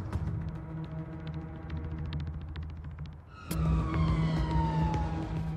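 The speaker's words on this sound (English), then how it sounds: "We are trying to get there as quick as we can on blue lights and sirens" An ambulance siren wailing close by on an emergency run, with a louder sweeping siren tone kicking in midway over rumbling engine noise.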